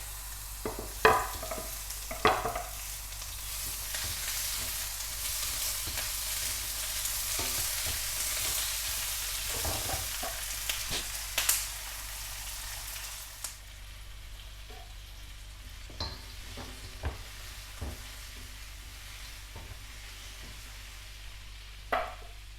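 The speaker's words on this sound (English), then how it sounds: "I'm going to saute all the vegetables. So that's 1 red pepper, 1 capsicum, and 2 tomatoes." Red pepper, capsicum and tomatoes sauteing in a pan, a soft continuous sizzle broken by repeated spatula clacks and stirring scrapes, fainter in the latter half.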